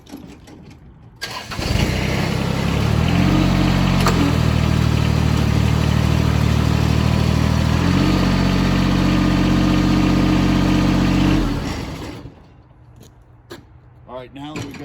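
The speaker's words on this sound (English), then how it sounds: "I gotta start the tractor and lift it back up again." A John Deere tractor engine cranks, catches and runs at a loud, steady idle for around ten seconds with one shift in pitch, then shuts off, leaving quiet clicks afterward.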